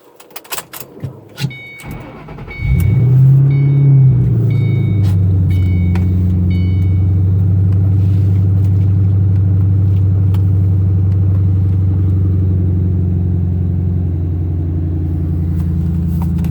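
After a few clicks and clunks, the engine of a wrecked Ford Mustang GT cranks, catches and fires up, settling into a loud, steady, deep idle rumble that carries on for the rest of the clip.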